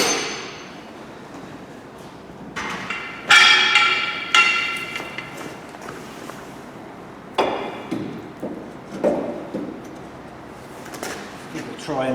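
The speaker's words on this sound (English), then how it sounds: "we'll just hit on the bottom of the hub carrier just there to release it" A hammer strikes the bottom of a stuck hub carrier on a Ford Focus MK2 to free it, a series of sharp metallic blows spaced irregularly, close and loud.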